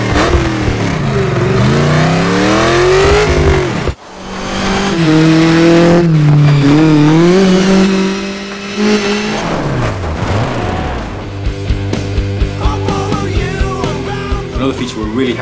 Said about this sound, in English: for Dirt 2, we really want to improve those car sounds